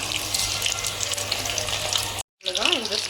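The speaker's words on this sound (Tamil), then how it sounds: "நல்லா ஃப்ரை ஆகிட்டு வருது. இப்போ டர்ன் பண்ணுங்கள்." Chicken pieces deep frying in oil give a steady, close crackling sizzle for about two seconds, then a brief silence followed by a short burst of bubbling.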